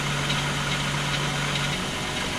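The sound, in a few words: 2000 VW Eurovan engine running and warming up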